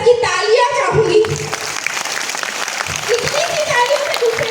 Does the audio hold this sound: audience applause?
yes